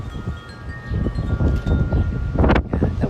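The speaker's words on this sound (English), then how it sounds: "the wind is just starting to pick up" Strong wind blows outdoors as a storm with tornado risk builds, buffeting the microphone in loud, rumbling gusts that swell and roar throughout, with no one speaking.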